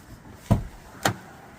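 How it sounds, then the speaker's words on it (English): Two short, sharp clunks about half a second apart as the driver's door of a Nissan Rogue unlatches and swings open, with quiet background in between. "you will have to open the driver's door"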